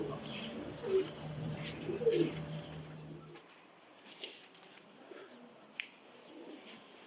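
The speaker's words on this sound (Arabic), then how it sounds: "حمام نزل فيها بربريسي" Pigeons cooing softly, including a yellow Barbarisi pigeon coming down to land, with a few low murmuring coos early on, then quieter chirps and faint wing or perch sounds in an open outdoor setting.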